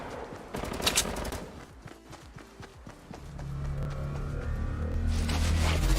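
Rapid gunfire crackles in a Fortnite-style battle royale game, with bursts of shots early, then quieter scattered pops, then a rising mechanical rumble toward the end.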